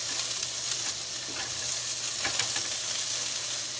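Vegetables cook in a hot skillet, giving a steady, close sizzle and hiss that runs the whole time with small crackles and no talking.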